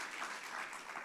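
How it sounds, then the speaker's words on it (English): Audience applause at a food and agriculture event in Georgia, a dense, even patter of many hands clapping, fairly faint and brief. "Give her a round of applause, please."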